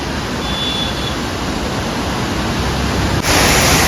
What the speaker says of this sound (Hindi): इस रास्ते का सबसे बड़ा वाटरफॉल अभी तक का यही है, वलारा वाटरफॉल।